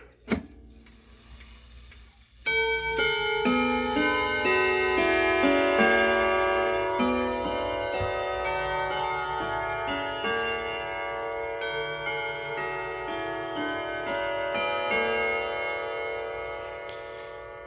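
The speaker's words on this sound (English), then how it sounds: "We'll start by unsilencing the clocks because that's the easiest here." A large clock with a self-correcting chime mechanism rings out a long, resonant multi-note chime after a brief quiet start, its sustained bell tones layering and ringing on, loud and close, with no talking.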